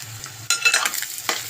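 Egg curry is stirred in a pan: a quiet start gives way to bursts of sizzling and scraping strokes, close and fairly loud.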